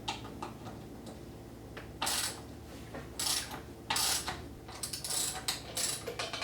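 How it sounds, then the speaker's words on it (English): Hand ratchet with an 8mm socket loosening hex nut bolts on a chain guide of a KTM 300 dirt bike, producing quick bursts of fine clicking ticks in irregular runs, close up and fairly quiet. "You can do that with a ratchet and an 8mm socket"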